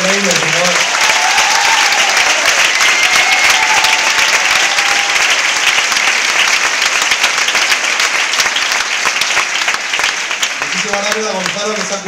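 A dense, continuous wave of applause fills a concert hall, loud and steady throughout, with a voice speaking over the clapping at the start and again near the end.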